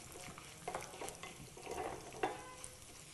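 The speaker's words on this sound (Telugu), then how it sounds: "ఇప్పుడు ఇందులో మిరియాలు వేస్తున్నాను. ఒక 10 మిరియాలు వేయాలి. వేసిన తర్వాత ఇవి కొంచెం బ్రౌన్ కలర్ వచ్చేంత వరకు వేగనివ్వాలి ఆయిల్లో." About ten peppercorns and dried chillies fry in oil in a pan, giving a faint, soft sizzle with occasional stirring scrapes and small pops, and no voices.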